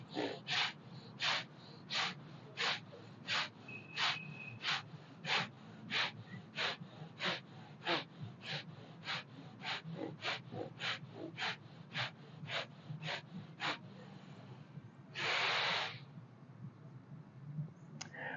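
Pranayama breathing exercise: close, quiet, sharp breaths repeat in an even, rapid rhythm, about thirty in a row, followed by one longer, fuller breath near the end, with no talk.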